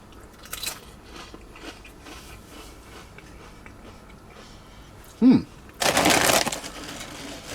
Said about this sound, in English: All that crunching for you ASMR people.